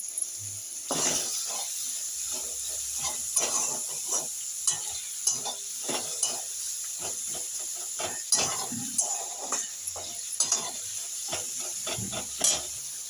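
A spoon stirs and scrapes through cauliflower and potato curry frying with garlic and ginger paste in a pan. A steady sizzle runs underneath repeated close scraping strokes, with no talking.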